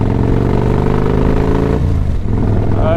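A motorcycle bought with mechanical damage, its engine revving hard under acceleration while being ridden, a loud close buzzing drone that climbs in pitch and then drops as the throttle eases.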